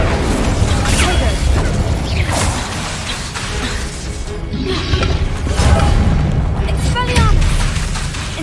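Spell blasts in Hogwarts Legacy go off as a loud, dense run of booms, crashes and whooshes with rumbling low end, layered over a player shouting incantations.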